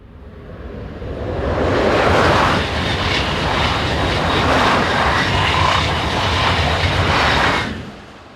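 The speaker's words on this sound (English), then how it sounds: "This pairing sees a TGV duplex set, coupled to one of the older TGV réseau sets, heading north towards Paris." A TGV Duplex set coupled to an older TGV Réseau set runs past heading north, a loud rushing roar with rhythmic wheel clatter that builds quickly, holds steady, then falls away at the end.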